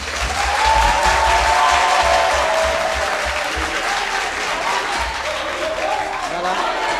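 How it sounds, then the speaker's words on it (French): Audience applause fills the hall at a televised university debate, a dense steady wash of clapping that stays loud from start to finish, with a faint voice underneath. "Je vous demande de les applaudir"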